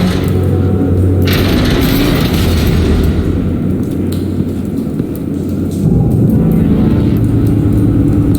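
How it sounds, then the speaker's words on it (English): Deep, rumbling explosion boom in the Batman Telltale Series video game, a loud sustained blast with a roaring low-end wash that swells again near the end. "A normal bullet couldn't have caused that explosion."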